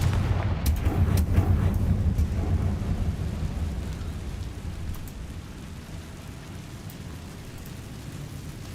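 A Confringo spell blast in Hogwarts Legacy: a heavy booming explosion at the start that rolls into a long rumbling, crackling decay, fading slowly toward a steady low hiss, with no voices.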